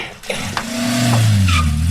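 A car pulls away, its engine rising into a steady, loud drone with a brief tire squeal as it speeds off.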